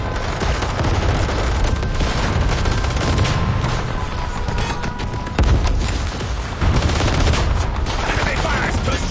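Sustained gunfire and explosions from the mobile war game Warpath, a loud, dense barrage of rapid shots and booms that continues for the whole stretch with brief surges.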